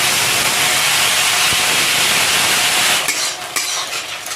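Ginger, green chili and tomato hit hot spiced oil with a loud, steady sizzle and hiss that carries on without a break. A few soft clinks of stirring come near the end as the frying eases slightly.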